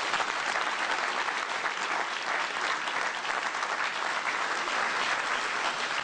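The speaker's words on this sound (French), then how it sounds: "manifester par quelques applaudissements votre soutien" Steady applause from a conference audience filling the whole stretch, a dense, even wash of clapping with no talk over it.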